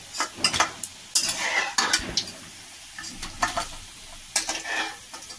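Pumpkin flower pakoras frying in oil, heard as a soft sizzle beneath repeated metal scraping and clinks from a spoon against the pan, in irregular bursts.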